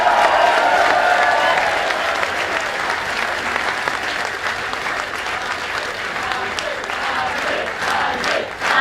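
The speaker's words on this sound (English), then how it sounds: "can we give him yet another round of applause?" A loud round of applause from a crowd at a political gathering for a Member of Parliament, dense continuous clapping with scattered cheers and whoops, sustained throughout at close range.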